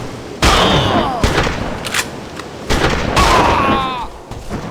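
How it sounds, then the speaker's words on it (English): Two loud, close double-barrel shotgun blasts in the video game XIII, each a sharp boom with a ringing tail, spaced about three seconds apart. "One of them has a double-barrel shotgun, however, and we love the double-barrel shotgun."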